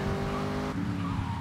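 Car in GTA Vice City skidding as its brakes fail, a loud, steady engine roar with a tire-squeal screech over about a second and a half, with no talk.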